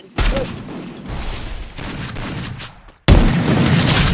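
Gunfire in the mobile battle-royale game Free Fire during a 4v4 match: a dense, loud burst of rapid shots, a short lull near the end, then another heavy burst, with game ambience between.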